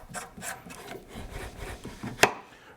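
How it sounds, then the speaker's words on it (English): A metal barrel nut for a Midwest Industries Gen 3 handguard is threaded by hand onto a rifle's upper receiver. Close, soft scraping rubs repeat unevenly, and one crisp metallic click comes near the end. "Next, we're going to install the barrel nut."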